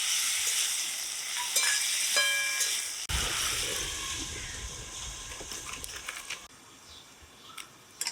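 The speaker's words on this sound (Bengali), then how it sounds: "নেড়ে তেড়ে মশলার সাথে মিশিয়ে দিচ্ছি একটু জলও দিয়ে দিলাম মজানোর জন্য" Vegetables, salt, spices and a splash of water stirred in a pan while cooking a tengra fish curry, giving a steady close sizzle with scraping stirs and a brief clatter partway through.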